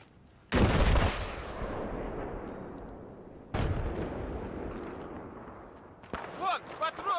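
Battlefield 4 gunfire: two heavy booming shots, each with a long rolling echo that decays over seconds, followed by someone talking near the end.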